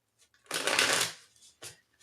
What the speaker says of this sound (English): Let me give it a couple shuffles here.